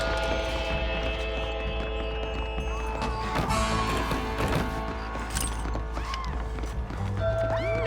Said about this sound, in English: The horses should be in an alleyway down here!